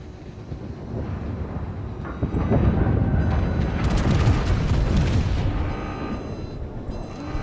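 Naval shell explosions and gunfire booms in World of Warships, a battleship battle with a Massachusetts firing on a Des Moines cruiser, rolling as a dense, continuous barrage of loud rumbling blasts that swell in the middle.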